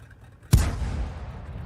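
A single loud cannon blast from an SU-18 self-propelled gun in World of Tanks, with a sharp crack followed by a rumbling tail that slowly fades.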